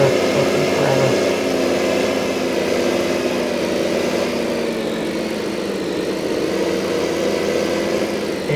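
A hay mower's engine in the Farming Simulator 15 video game drones steadily and loudly throughout, a constant mechanical hum with no talk over it.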